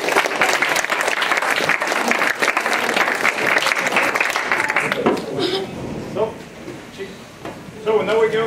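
A crowd of spectators claps loudly after a physics demonstration at a science show, steady dense applause that thins out into a few scattered claps and murmuring voices near the end.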